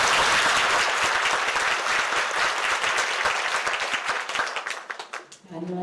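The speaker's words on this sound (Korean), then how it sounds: "큰 박수 부탁드리겠습니다." Audience applause at a nursing pledge ceremony, the Nightingale pledge at Kangdong University's nursing department; loud dense clapping that thins into scattered claps, then a voice begins speaking at the end.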